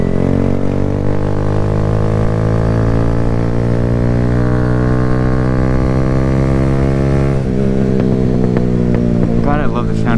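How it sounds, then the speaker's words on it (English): A Kawasaki Z125 motorcycle with a stunt-build exhaust drones steadily while ridden, its engine note rising gradually and then shifting, loud and close throughout with wind buffeting and a speaking voice near the end. "God, I love the sound of my exhaust."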